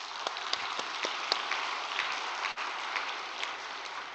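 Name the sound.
audience applause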